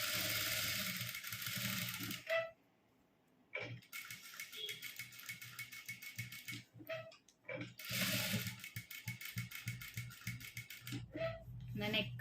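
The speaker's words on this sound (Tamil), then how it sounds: "அதனால் நான் வந்து எட்ஜிலேயே ஸ்டிச்சிங் போட்டுக்கிறேன்." A sewing machine runs along the neck edge of a churidar top in two bursts of fast, buzzing stitching, with a soft voice and ticking, handling noises between them.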